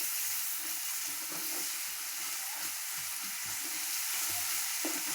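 Green chillies frying in hot oil for a fasting-day khichdi, a continuous close sizzle with repeated scraping stirs of a spoon against the pan in an uneven rhythm, no voices.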